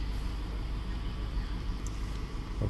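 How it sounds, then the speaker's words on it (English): A running BMW 750i F02 sedan idles steadily in a workshop, a low continuous engine rumble heard close with no talking over it. "The car is running now."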